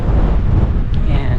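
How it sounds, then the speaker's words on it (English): Wind gusts across an exposed mountain trail above a valley near Boulder and Lyons, Colorado, producing a loud, low, buffeting rumble against the microphone throughout. "It's a bit windy, certainly colder with the wind"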